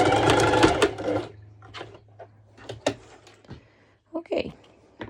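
Sewing machine top stitching a mesh sports top: a loud, fast whirring stitch burst for just over a second, then a low motor hum with scattered clicks and handling noises, with a voice talking over it.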